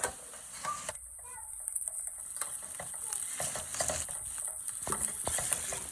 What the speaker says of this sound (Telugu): ఆనియన్స్ బ్రౌన్ కలర్ వచ్చిన తర్వాత 1 స్పూన్ అల్లం వెల్లుల్లి పేస్ట్ వేసుకొని ఫ్రై చేసుకోవాలి